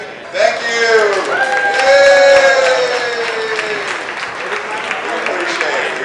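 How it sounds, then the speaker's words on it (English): An audience at a waterfront design conference workshop claps in a sustained round of applause. A voice speaks loudly over the clapping at first, then the applause carries on. "if everyone will stop and give a big round of applause"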